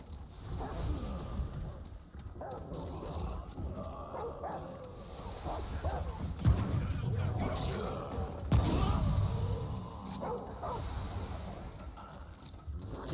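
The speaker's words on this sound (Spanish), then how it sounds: "El puto perro, ya." A dog barks repeatedly in the action game Remnant: From the Ashes, short yips and bow-wows over dense game noise and a player talking, with a couple of louder impacts midway.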